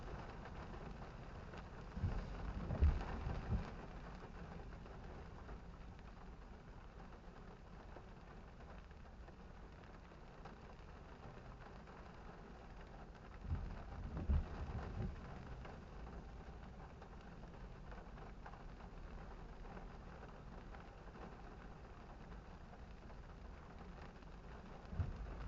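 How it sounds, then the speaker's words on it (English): Steady rain patters over a muffled engine hum inside a car moving along a big city street by day. A couple of low rumbling thumps stand out faintly against the constant wash, with no talking. "you can't be bothered by the rain."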